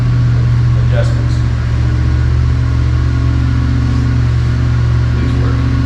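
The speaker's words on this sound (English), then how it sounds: "This is our Dyno control room. Rodney's in there with the engine." A 474ci Pontiac V8 with cast iron heads runs on an engine dyno, its steady low hum and drone filling the control room loudly while people talk over it.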